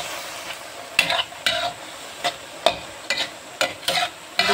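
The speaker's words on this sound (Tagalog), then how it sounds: "Naluluto na din itong aking beans." Beans seasoned only with pepper and salt cook in a pan, and a utensil stirs them in repeated scraping strokes spaced about half a second apart over a low background sizzle.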